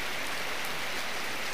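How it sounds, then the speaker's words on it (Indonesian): Heavy downpour heard from shelter, a steady close wash of rain with an even hiss and no speech. "kali ini kita lagi berteduh dulu sambil nunggu hujan agak reda ini teman-teman, karena pas hujan deras-derasnya."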